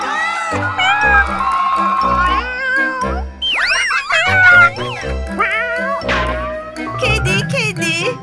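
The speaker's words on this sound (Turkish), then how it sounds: "Yavru kediler mi geldi?" Several high-pitched kitten meows repeat close by, mixed with lively children's voices and bright background sounds.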